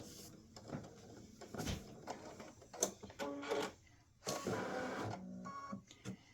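A home embroidery machine stitches a bandaid appliqué fill design, giving quiet, uneven bursts of whirring, clicking stitching with brief pauses as the hoop shifts back and forth, heard close and alone.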